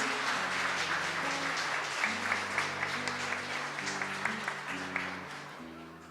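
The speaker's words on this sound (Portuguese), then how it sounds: "Vamos aplaudir a natureza e as crianças." Applause from a seminar audience fills the room, many hands clapping steadily while sustained music chords play underneath, the clapping holding at moderate volume and easing off toward the end.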